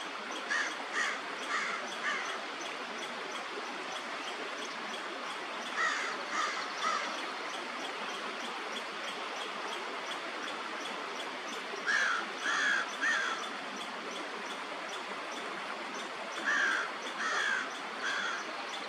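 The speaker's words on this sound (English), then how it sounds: "This crow caught my eye, especially with the classic coloring." A crow caws in a creek valley, calling in short bursts of two to four harsh caws repeated every few seconds over quiet background hiss.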